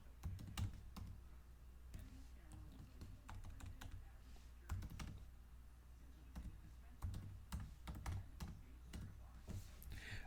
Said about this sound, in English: I'm going to type in the title that I want